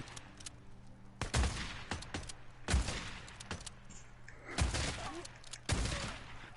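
Sniper shots crack out in the video game Days Gone, four loud separate blasts spaced about a second and a half apart, each with a short echoing tail and fainter pops in between.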